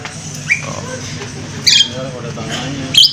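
Caged birds at a shop selling birds give a few sharp squawks and chirps at close range, in short bursts over a steady murmur of voices and shop noise.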